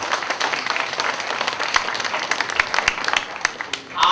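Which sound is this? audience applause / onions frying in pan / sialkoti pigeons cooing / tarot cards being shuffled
audience applause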